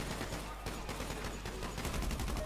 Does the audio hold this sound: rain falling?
no